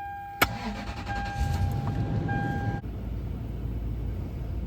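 A 2002 Toyota Sequoia SUV engine cranks with a sharp burst, then settles into a steady low idle before dropping to a quieter rumble.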